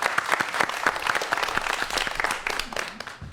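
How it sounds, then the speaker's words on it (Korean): An audience at a talk on virtual reality breaks into brisk applause, many hands clapping densely for a few seconds before tapering off. "박수 부탁드립니다."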